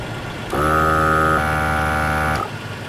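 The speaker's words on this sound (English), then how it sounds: "Alright, so I got my Vlare compressor." A Vlare air compressor pressurizing a water tank in a truck bed starts with a loud, close electric buzzing hum that shifts pitch once partway through and cuts off after about two seconds.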